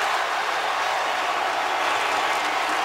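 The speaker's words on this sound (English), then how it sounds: "Crowd loving it." A basketball crowd at a Florida Gators vs Vanderbilt Commodores game cheers after a junior hits a three-pointer, a steady, dense roar of voices and applause holding at full level throughout without a break.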